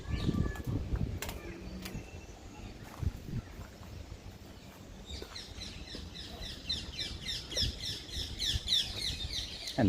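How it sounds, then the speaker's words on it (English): Birds chirp and twitter in a Rome villa garden, with quick repeated calls building toward the end over steady outdoor background noise and scattered knocks. "And the birds just add up to the beauty of this place."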